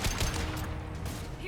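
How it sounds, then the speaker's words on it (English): Gunfire from the video game Mass Effect 2 comes as a short burst of rapid shots, loud and close, a dense crackle that stays steady for about a second and a half. "Taking heavy fire!"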